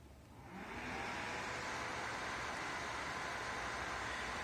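A PC cooler fan spins up moments after the power button is pressed on a case fitted with a graphics card, rising into a faint, steady airy whoosh that holds constant to the end.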